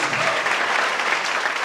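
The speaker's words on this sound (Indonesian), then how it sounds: "Tepuk tangan bagi anak kita, tepuk tangan bagi Yesus," A church congregation applauds loudly during a sermon, with thick, continuous clapping from many hands close by and no gaps.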